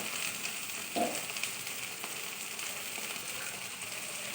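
Onion, ginger and garlic masala fries in oil with a constant, close sizzle, broken by one brief thump of a utensil near the start.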